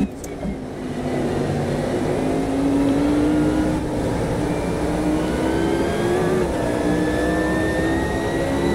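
A Mercedes-Benz CLK LM race car at Monza drones steadily and loudly, its engine note rising and shifting in pitch as it holds speed for several seconds, with no talking.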